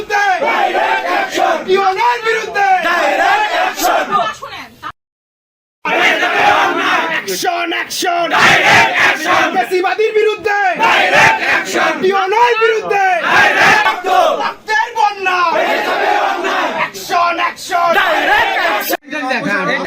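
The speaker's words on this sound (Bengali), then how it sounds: "কার্যালয়ে স্লোগান দিতে থাকে বিক্ষোভকারীরা" Crowd of protesters in an office shouting slogans together, loud and close, with repeated chanted bursts and a short break of silence partway through.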